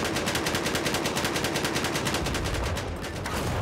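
Rapid automatic gunfire in Battlefield 4 multiplayer combat, a fast, evenly spaced burst of machine gun shots rattling for about three seconds before stopping, loud and close, with no talking.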